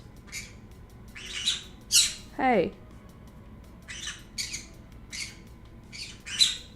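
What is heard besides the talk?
birds squawking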